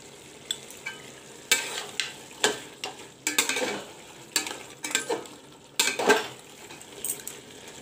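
Mutton fries with masalas in a pan, a close, steady sizzle broken by repeated scraping stirs and clinks of a spoon against the pot.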